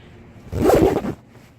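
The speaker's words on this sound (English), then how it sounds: "let me undo the zipper here" A zipper is drawn open in one quick, close rasping pull, lasting about half a second, on a fabric cover for a Skip Hop Forma changing pad. No voices are heard.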